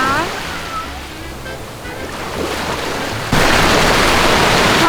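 Sea waves washing onto the beach at Hua Hin, a steady loud rush of surf that swells louder near the end, with voices talking over it at first.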